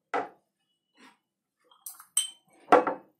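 A spoon clinks against a bowl while apple paste is scooped out, giving a few sharp, separate metallic taps and rings with quiet pauses between them.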